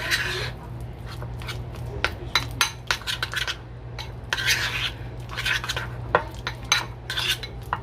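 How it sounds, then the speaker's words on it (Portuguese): A spoon stirs margarine with cinnamon and nutmeg in a pot, giving steady close scraping and clinking strokes in irregular bursts, with a faint sizzle underneath. "Eu vou dar uma misturadinha aqui, só pra essa margarina pegar bem o sabor da canela com a noz moscada"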